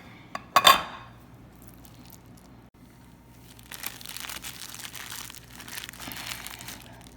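Spinach artichoke dip being stirred in a bowl, a sharp clatter of utensil at the start followed by quiet scraping and soft sticky mixing sounds.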